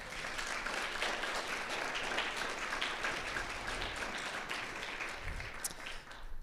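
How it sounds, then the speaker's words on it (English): An audience applauds the staff at a Guide Dogs for the Blind graduation ceremony, with continuous dense clapping that holds steady and fairly distant throughout. "So a big applause for all the staff."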